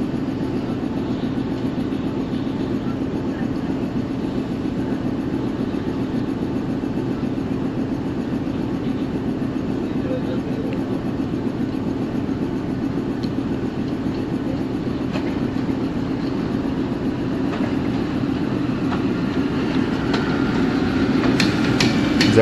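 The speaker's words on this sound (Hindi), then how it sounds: "आने वाली जो ट्रेन है वो मेन लाइन पे नहीं है, लूप लाइन पे आ रही है" Train pulling in on the loop line at Kala Gujran station, on a single-track line between Lahore and Rawalpindi, a steady heavy rumble and rattle that grows slightly louder toward the end.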